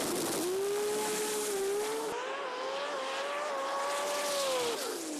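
A drag race car with a 182 cubic inch inline six-cylinder engine accelerates hard, its loud steady engine note rising in pitch and briefly dropping as it shifts gears, continuous and close throughout.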